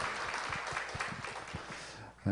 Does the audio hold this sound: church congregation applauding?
yes